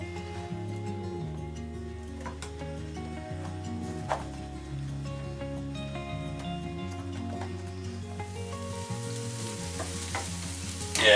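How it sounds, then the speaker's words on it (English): Mushrooms frying in a pan with a scoop of olive butter, a steady sizzle running under bright clattering tones and a low musical backdrop, with occasional stirring knocks. "don't go too mad cooking the mushrooms either, because they're going to go in the oven"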